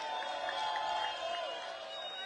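A large outdoor crowd at a Raila Odinga and Azimio political rally at Kamukunji in Kenya applauds and cheers, making a steady, dense roar of clapping and voices with speech mixed in.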